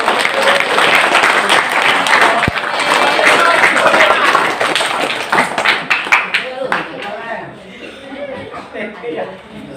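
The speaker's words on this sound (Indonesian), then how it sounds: "berikan tepuk tangan untuk kandidat yang pertama" Audience applause for the first candidate at an organisation's vision-and-mission presentation: a dense, loud burst of clapping that fades into scattered claps and chuckles, with voices and some crowd noise underneath.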